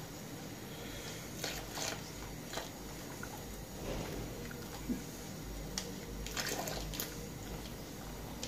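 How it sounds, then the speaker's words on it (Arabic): Water poured little by little into yogurt and stirred, for zucchini cooked in yogurt: soft, steady sloshing and wet squishing with occasional small splashes, close by and without talk. "بنحط المي شوي شوي، ما بندلق افر دلقه، بنحط ومنحرك"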